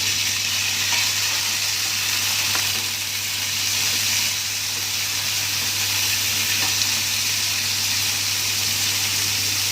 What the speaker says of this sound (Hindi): और अब डाल देंगे हम इसमें ये कटे हुए टमाटर।